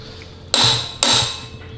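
Two sharp hammer strikes on a 3-inch bolt during a long travel suspension install on a 2022 Polaris RZR Pro XP, each a loud metallic bang about half a second apart with a short ringing decay, no talking.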